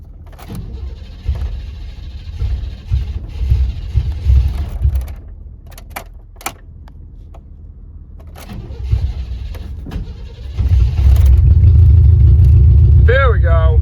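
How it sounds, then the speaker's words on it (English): A pickup truck with an exhaust leak from a broken bolt cranks with some effort, then catches and settles into a loud, rough, rumbling idle close by, with mechanical clunks and a voice speaking before it starts. "Let me fire this truck up now."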